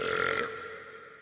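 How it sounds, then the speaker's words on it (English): A loud, drawn-out burp in the animated show Family Guy, a single throaty belch that rasps for about half a second and then trails off. "when I burp really loud in an underground parking structure"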